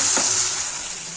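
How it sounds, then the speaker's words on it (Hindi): Dal frying in a pan with onion, tomato, green chili and garlic gives a steady, close, hissing sizzle that holds for the whole short stretch with no talking. "इधर मैं कर रही हूँ दाल फ्राई हो रही है यहाँ पे, प्याज टमाटर हरी मिर्च लहसुन"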